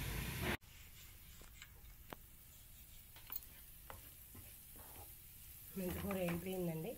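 Fenugreek leaves fry in a pan with a steady soft sizzle and occasional stirring clicks, moderately close, while a voice speaks near the end.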